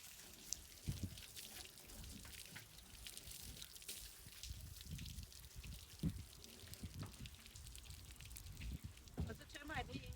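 Water sloshes and splashes steadily while a sea kayak's cockpit is rinsed out to flush sand from around the thigh braces, a continuous close wash with scattered drips and splats.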